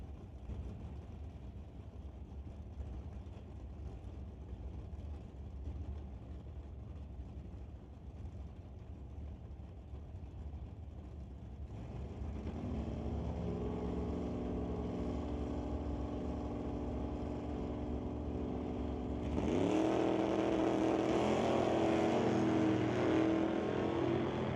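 Drag race cars, a Malibu Wagon against a Blazer, racing at a Lordco ET series event: a distant engine drone builds louder, then a sharp roaring launch near the end as the cars accelerate away, with no voices.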